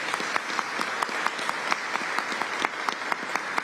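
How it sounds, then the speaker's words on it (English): An audience at a public safety announcement in Albany applauds the state police superintendent, with steady, dense clapping that holds at a moderate level with scattered sharper claps throughout. "Let's give him a round of applause as well."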